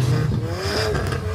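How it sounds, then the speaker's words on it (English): Car engines rev across a packed parking lot at a car meet, a brief, steady rising drone of motors heard from a distance with no talk over it. "Right now, some cars revving on the other side of the lot because it's super packed here."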